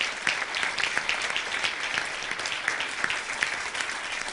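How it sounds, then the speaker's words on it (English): Round of applause from an audience at a success-story talk, steady close clapping sustained evenly throughout without any voices over it. "Give her a round of applause."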